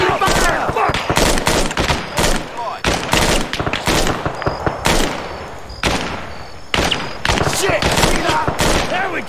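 Dense bursts of gunfire in the Arma 3 military game, rapid automatic volleys and single cracks overlapping in a loud, sustained firefight, with shouting voices mixed in between the shots.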